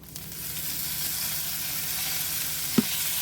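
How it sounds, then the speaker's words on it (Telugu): Ajwain leaves frying with spice powder in a pan for a home remedy rasam, a steady close hiss of sizzling oil with one brief stirring knock, no talking. "మనం ముందుగా కట్ చేసి పెట్టుకున్న ఈ వామాకుల్ని ఇందులో వేసేసుకుందాం"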